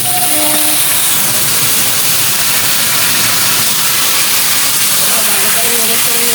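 Boiled vegetable greens hit a hot pan and sizzle loudly, a dense continuous hiss that fills the whole stretch, close to the pan.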